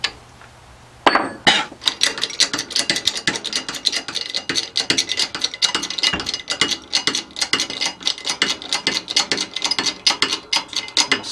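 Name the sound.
pressing a CVT secondary pulley into place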